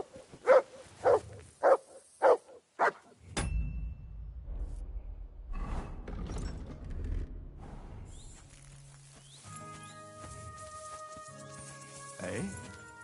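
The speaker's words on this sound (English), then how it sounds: "Good dog, Mutt." A dog in Kingdom Come: Deliverance II barks five times in quick, loud succession near the listener, then gives way to rumbling game ambience and a man's speech.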